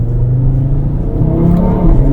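A 500 hp Audi RS3 pulls hard under acceleration, its engine rumbling loud and close from inside the car, with a rising whir as the turbos spool up.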